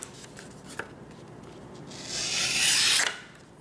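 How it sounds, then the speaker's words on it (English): A Spyderco Techno knife blade slices through an index card. There are a few small ticks, then a single rasping cut about a second long, close and fairly quiet. "Now the Spyderco Techno against index card."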